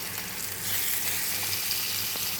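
Shallots, garlic, tomato, green chilli, cinnamon, cardamom and curry leaves tempering in hot oil for a fish curry, giving a steady, close, hissing sizzle with no talking.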